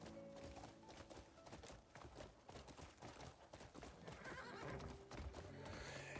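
A legendary horse in the video game Crimson Desert whinnies loudly while its hooves clip-clop in a steady rhythm, close and continuous with no talking.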